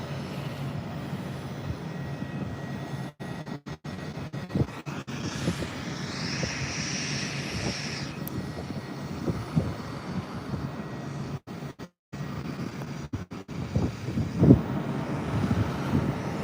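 Airplane engines at Heathrow airport at night: a broad, steady rumble with a faint high whine partway through, continuous for the whole stretch with a few brief dropouts.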